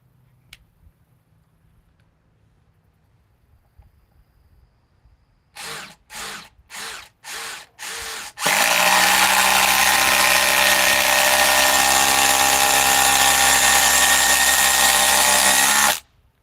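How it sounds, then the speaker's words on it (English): A Ryobi power drill revs in five short bursts, then runs steadily at full speed for about eight seconds, loud and close, with no talking. "let's run another one with the Ryobi"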